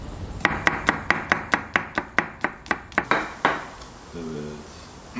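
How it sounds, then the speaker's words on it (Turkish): A knife chops garlic on a board in a quick run of about a dozen evenly spaced, crisp knocks, followed by a softer clatter and then quiet. "Önce sarımsağımızı şöyle ikiye bölelim."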